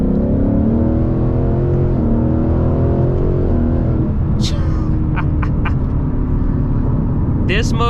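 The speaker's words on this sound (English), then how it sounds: "Let me downshift to 3rd. And we're gonna send it a little bit." A Ford Mustang GT with a 10-speed gearbox pulls hard in third gear, its engine note climbing loud and close before a shift, with speech heard over it.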